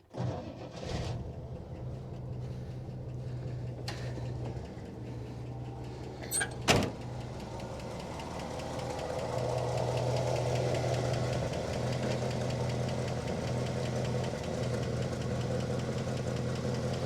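A 1970 Oldsmobile engine, primed with ether, cranks and fires, then settles into a steady, smooth idle close by, with a sharp clack or door-like thump midway.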